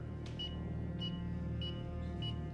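A ghost-hunting detector from a paranormal TV show beeps four times at an even pace, short faint electronic pips over a low steady hum.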